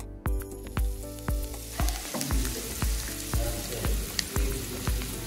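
Onions browning in a pan for green chicken curry give a close sizzle, punctuated by a regular series of sharp knocks from a spoon striking the pan, no voices.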